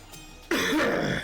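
A man coughs once, a sudden harsh burst up close that rasps on for most of a second after a quiet lead-in, sounding like a throat-clearing hack.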